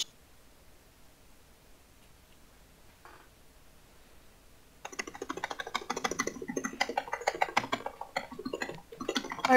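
Computer keyboard clicking during a Minecraft session, quiet at first, then about five seconds of rapid, close, uneven typing bursts.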